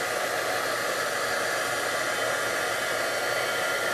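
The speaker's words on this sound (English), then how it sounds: "I'm going to hit this with the heat tool until it's shiny" A heat embossing tool blows hot air in a steady, close whooshing hiss, loud and unbroken for the whole stretch, with no voices over it.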